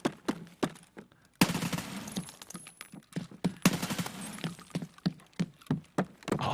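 In an Escape From Tarkov PvP tournament match, sharp bursts of gunfire and heavy explosive thuds, consistent with grenades, go off in clusters, some loud and close, others quieter, with brief gaps between them.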